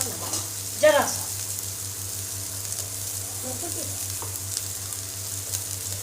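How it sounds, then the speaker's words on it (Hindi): Curry leaves fry in a pan for a vegetable pulao, a steady bubbling sizzle over a low hum, with a short vocal-like sound near the start and faint clinks later. "ये मेरी कश्मीरी करी पत्ता है। टमाटर हम डालेंगे नहीं, चावल में मुझे अच्छा नहीं लगता है। अब इसको देखिए फ्राई कर लेते हैं।"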